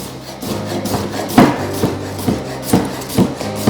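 A knife cutting salad vegetables in half on a board, giving a steady series of close, crisp chops and taps in an even rhythm, fairly loud, with no voices.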